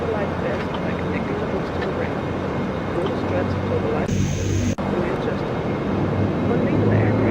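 A Dash 8 Q400 turboprop taxiing in Microsoft Flight Simulator X gives a steady, loud engine drone with a broad rumble throughout, a brief high whine joining midway before cutting off.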